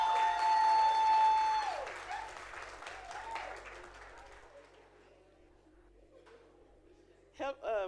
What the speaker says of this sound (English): Let's clap them up.